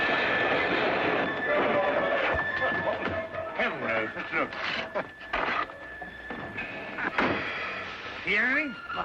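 Rumbling train carriage noise with rhythmic rattling and clanks, and voices talking over the steady rolling din.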